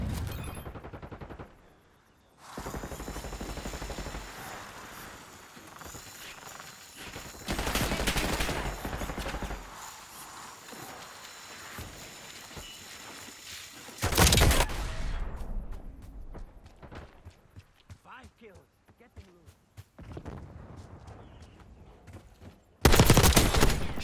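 Gunfire in a shooter video game: bursts of automatic fire and sharp single shots crack loudly across the clip, broken by pauses and quieter stretches with several very loud, abrupt blasts.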